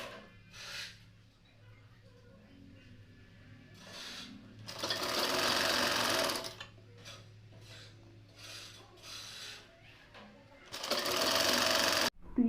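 A sewing machine stitches folded cloth for a small frock in short separate bursts of rapid, close mechanical chatter, with quiet pauses of cloth handling and rustling between runs.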